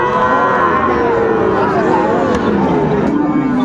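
Friesian and crossbred bull calves mooing at the Raniganj cattle market, a drawn-out low call rising over steady crowd babble and nearby talk.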